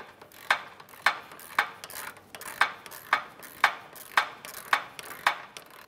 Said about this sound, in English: Now I'll just go ahead and tighten this nut.